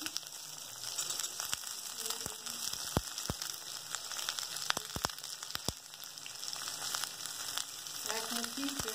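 Spring onion greens and flowers frying in a pan make a steady crackling sizzle with scattered sharp pops, close and fairly quiet, with no talk.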